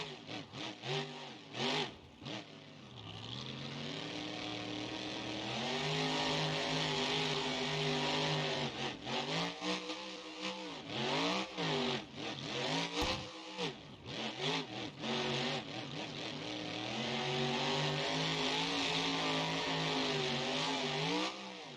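Gravedigger monster truck engine in BeamNG.Drive revs loudly and continuously, climbing and falling in pitch through repeated throttle blips and sustained high revs, close and alone without talk.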